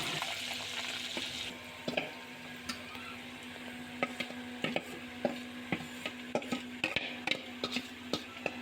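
A spoon stirring mashed chana dal as it fries in ghee with green cardamom in a pan, a steady sizzle broken by regular scraping knocks against the pan.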